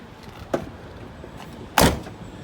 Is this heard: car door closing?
yes